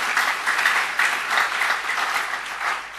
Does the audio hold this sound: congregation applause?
yes